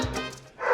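Dogs bark in two quick, close yipping bursts separated by a short pause, loud and sharp within under a second.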